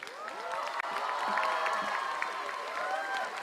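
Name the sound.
crowd of women screaming and cheering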